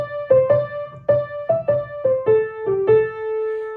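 A piano plays a run of swung quarter notes from a song, a steady series of distinct single notes with an uneven, lilting rhythm, close and clear.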